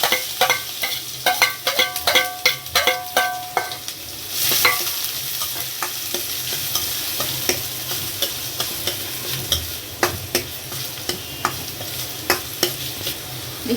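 Chopped onions hit hot oil with cumin already in the pan and sizzle as they are stirred. Scrapes and taps of the spoon against the pan come close and repeatedly over a steady frying hiss, with no talking.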